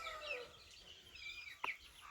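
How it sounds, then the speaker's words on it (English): Meat chickens in a small, crowded pen give soft clucks and scattered calls over a low background murmur, with one brief sharper note standing out near the end. "Here are the meat birds."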